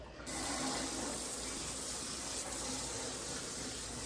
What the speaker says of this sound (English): I'm gonna give it one more little rinse just to be on the safe side.